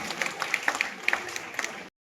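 An audience at a government degree college annual day claps for a woman's singing, a brief, moderately loud patter of hand claps that stops abruptly after under two seconds.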